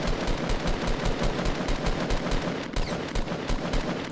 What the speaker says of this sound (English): He's going to start shooting up there.